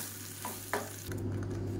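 Wheat batter simmering in a pan, a soft steady bubbling hiss with a couple of faint pops and a quiet stir, low in level with no voices.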